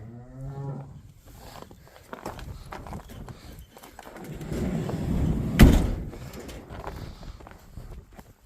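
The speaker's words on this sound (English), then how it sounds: "There is a cow here." A cow lows briefly at the start amid outdoor rustling and shuffling on a farm during calving season after rain, followed by a sharp bang or clatter partway through.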